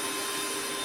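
A Greenworks 24V brushless cordless drill runs at a steady speed, producing a continuous whining motor hum for under a second with no voices.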